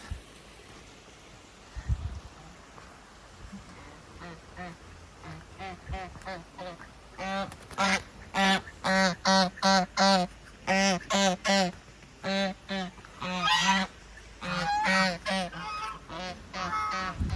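Geese in a village in Patna, India, honk loudly and repeatedly, a chorus of harsh calls building from sparse honks to dense overlapping blasts, close by.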